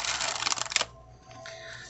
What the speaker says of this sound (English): Let me give a couple shuffles here.